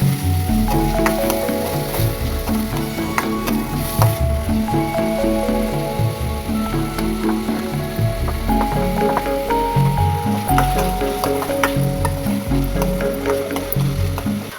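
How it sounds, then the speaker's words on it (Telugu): Onions fry in oil until golden brown for a chicken curry, giving a steady, dense sizzle with occasional stirring scrapes, loud and close throughout with no talking. "ఆనియన్స్ గోల్డెన్ బ్రౌన్ కలర్లోకి వచ్చేంత వరకు ఫ్రై చేసుకున్నానండి"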